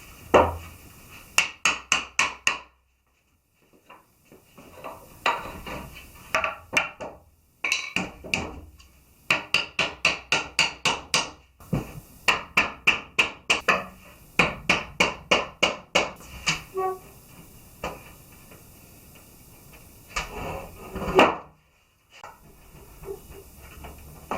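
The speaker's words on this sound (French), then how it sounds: "Et 4 coins, tout simple, qu'il faut rentrer au marteau." Wooden wedges are driven into the joints of a hand-built Viking-style bed frame with a hammer, in several bursts of sharp, rapid, evenly spaced blows, close and loud, separated by brief pauses.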